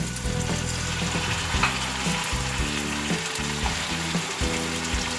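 Tomato goes into onions already frying in a pan, a dense nearby sizzle with rhythmic scraping and tapping of a spoon stirring against the metal.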